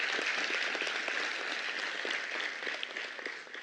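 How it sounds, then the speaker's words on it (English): An audience at a graduation ceremony in the Trianon Convention Centre, Mauritius, gives a round of applause: steady, dense clapping heard from a distance at moderate loudness, easing slightly toward the end. "Can we give them a round of applause"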